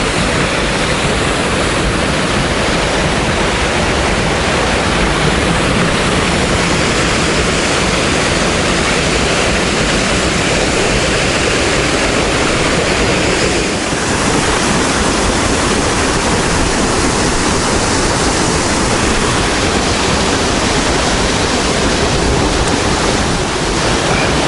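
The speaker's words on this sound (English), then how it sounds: "And there it is, Dawson's Fall on Mount Taranaki." Dawson Falls waterfall on Mount Taranaki roars steadily at close range, a dense, continuous rush of falling water with no voices over it.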